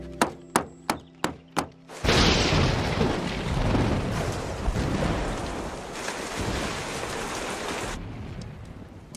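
A few sharp knocks give way to a sudden roar of heavy rain pouring steadily for several seconds before cutting off abruptly.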